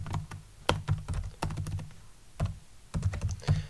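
Close, crisp keyboard typing: irregular bursts of clicky key presses with brief pauses between runs.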